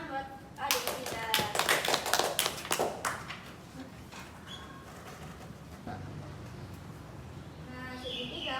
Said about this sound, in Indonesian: tepuk tangan buat adik kita